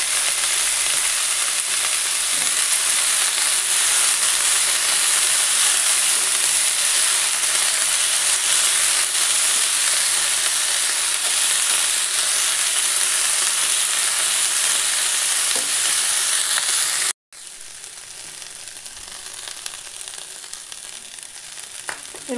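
Peas, tomato, carrot and capsicum fry in a pan with loud, continuous sizzling that drops off sharply near the end, followed by quieter frying and faint stirring.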